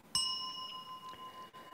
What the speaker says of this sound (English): The bell sound wide